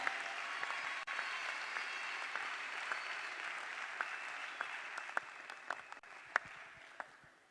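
An audience at a school prize ceremony applauds an award recipient, a dense, even round of clapping that holds steady, then thins into scattered louder claps near the end.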